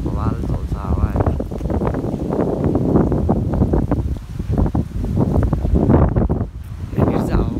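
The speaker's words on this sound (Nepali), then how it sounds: "यहाँनिर चाहिँ हावा बवाल चल्छ होइन," Strong wind buffets the microphone on the hilltop at Makwanpur Gadhi, rumbling and gusting continuously under a person talking close by.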